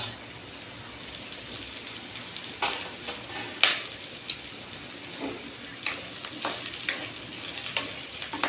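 Three tomatoes sauté in a pan for an Ooty-style fish curry, a soft continuous sizzle with occasional scraping stirs and light pops, close and alone without talk.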